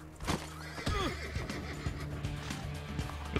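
A horse in the video game Assassin's Creed 2 gives a clear whinny against the game's background sounds and hoofbeats, and a player talks faintly over it.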